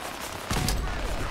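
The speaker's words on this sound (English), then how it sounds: "Another frag grenade." A frag grenade blast in Fallout 4, a sudden loud explosive burst midway that rumbles and decays, preceded by a steady background hiss of gameplay ambience.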